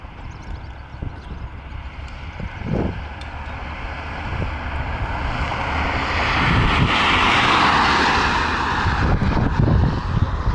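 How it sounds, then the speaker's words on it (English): A vehicle passes along a road in Northeast Ohio, a broad rushing roar that swells to a peak midway and then fades, with wind buffeting over it and no talk. "hold on, there's another vehicle coming."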